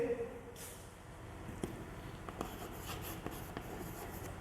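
Pen or chalk writing by hand during a physics lesson, a run of scratchy strokes with short taps and pauses, fairly close and moderately loud against a low room hum, with no talking over it.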